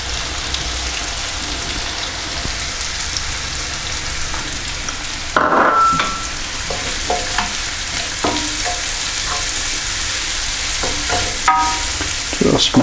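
Montreal steak seasoning is stirred through food frying in a pan, a steady sizzle running throughout, with a clatter of the utensil partway and light scraping strokes after it.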